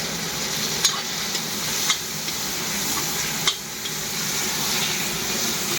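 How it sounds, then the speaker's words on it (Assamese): Potatoes and elephant apple fry in a pan with a constant hissing sizzle, punctuated by a few scraping strokes of a spatula. "ঔটেঙা আৰু আলুটো ভাজি কৰি লওঁ"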